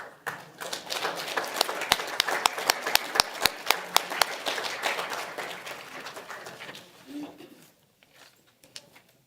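A school board meeting audience gives a round of applause for the Veterans Memorial Patriot Battalion: a scattered mix of sharp individual claps that builds, holds steady, then tapers off into quiet room noise with a few last claps.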